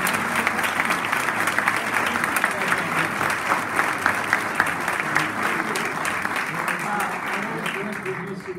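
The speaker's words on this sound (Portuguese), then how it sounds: "quero ter um forte aplauso para o Dr." An audience gives loud, sustained applause for Dr. William Amzalag, a thick steady roar of many hands clapping that holds evenly throughout, with a few voices blending in underneath.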